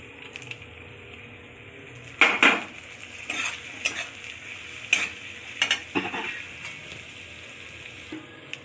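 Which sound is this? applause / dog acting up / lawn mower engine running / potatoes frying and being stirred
potatoes frying and being stirred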